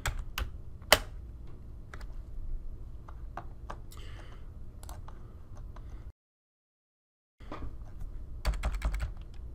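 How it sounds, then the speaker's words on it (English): Computer keyboard keys, arrow keys and space bar, tapped in scattered clicks with short bursts of rapid typing, close and clear, broken by a few seconds of silence midway. "You're going to use the up and down, left and right arrow keys, and the space bar or enter to present."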